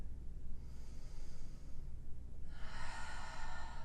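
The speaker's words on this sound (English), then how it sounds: "Nice deep breathing here." Deep, steady breathing during an intermediate yoga practice: a long breath in the first half, then a stronger, brighter exhale, close and without talk.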